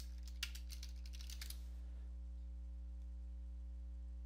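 Typing on a computer keyboard to enter a search: a quick run of soft key clicks lasting under two seconds, followed by a low electrical hum that continues alone.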